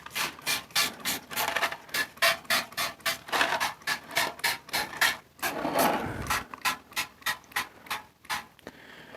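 A trigger spray bottle set to stream squirts Super Clean degreaser onto a greasy table, giving a long series of quick, evenly spaced spritzes with one short pause partway through. The sound is close and clear, with no talking.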